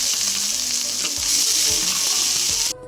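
Onion paste sizzles loudly in hot oil for a potato and pointed gourd poppy seed curry, a dense continuous frying hiss with soft stirring scrapes, close and steady before stopping abruptly.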